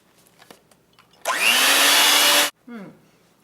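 Electric hand mixer whirring loudly and steadily for about a second, mixing lemon juice into a creamy berry cake filling, then stopping, followed by a brief scrape and clatter.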